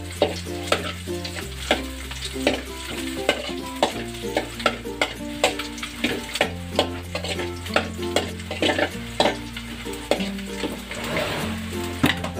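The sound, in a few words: sautéing garlic and ginger in a pan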